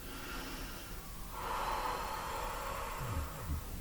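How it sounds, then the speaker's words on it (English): Deep breathing during a Barre-Pilates fusion workout, a long steady inhale and exhale close to the microphone over a faint background hum. "Couple good breaths."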